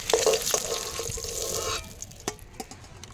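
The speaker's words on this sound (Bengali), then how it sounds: "এবার আমি তেলটা দিয়ে ডিমগুলোকে ভেজে নেবো" Eggs frying in hot oil in a pan, a close, bright crackling sizzle that is strongest at first and fades after a couple of seconds, with a few stirring knocks and clicks.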